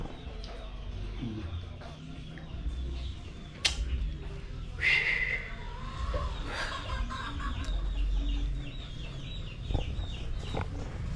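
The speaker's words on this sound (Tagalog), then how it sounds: "Yan si Rudy, napakain ng manok." Chickens cluck and squawk repeatedly nearby while being fed, with scattered sharp calls over a low rustling background and no clear speech.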